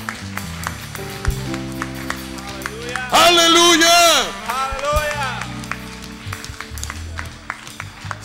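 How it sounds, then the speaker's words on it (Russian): Church congregation at a healing service breaking into a loud burst of applause and cheering for a second or so, with a voice and music before and after. "Дайте Богу большие аплодисменты."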